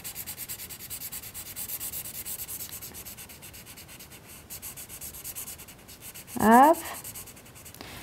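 A child's drawing of a superheroine being coloured on paper, the pencil rubbing in soft, continuous scratchy strokes close up, with one short spoken word near the end.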